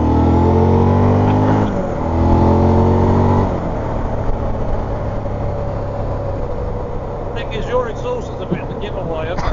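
Willys Jeeps rumble past on a road during D-Day 80th commemorations in Normandy, a loud droning engine note that shifts pitch, with wind buffeting on the microphone.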